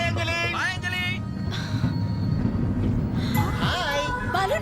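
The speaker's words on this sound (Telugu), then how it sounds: "ట్రైన్ మూవ్ అవుతుంది" Train beginning to pull out of a station, a low rumble of rolling wagons with brief wheel squeal, largely under overlapping speech and voices from a film comedy scene.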